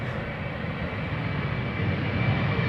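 An Embraer 190 jet departs Amsterdam Schiphol Airport, its engines a steady, broad roar that holds at an even level throughout, with no voices.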